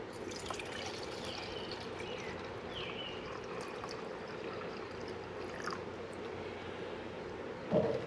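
Water trickles and pours quietly into a bottle while a sports drink mix is prepared, a soft, steady liquid stream heard close up and alone, ending in a brief louder splash.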